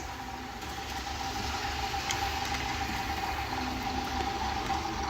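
A KR Models BR 10100 Fell model diesel locomotive idles with a steady, even mechanical hum and faint knocking vibration, continuous and unbroken for several seconds with no voices.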